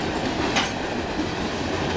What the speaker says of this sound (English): The end of the train.